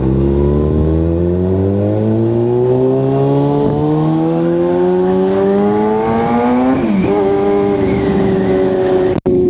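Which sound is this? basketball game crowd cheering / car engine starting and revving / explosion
car engine starting and revving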